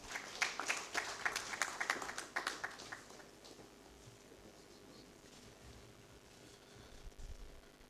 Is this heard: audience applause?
yes